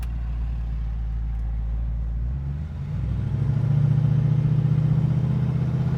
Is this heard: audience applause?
no